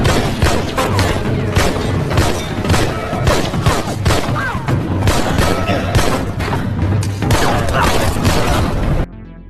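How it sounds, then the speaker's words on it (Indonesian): Gunfire exchange between a guard and a former special forces soldier inside a hideout in an action film, a dense loud barrage of rapid shots and thuds that continues without a break before cutting off abruptly. "Lukas dipergoki oleh seorang pengawal hingga terjadilah baku tembak"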